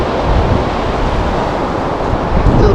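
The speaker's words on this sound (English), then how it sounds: "But very, very, very windy and a bit nippy." Strong, gusty wind on a chilly outdoor walk in Spain roars steadily across the microphone, a loud, close buffeting rumble that lasts throughout with no voices.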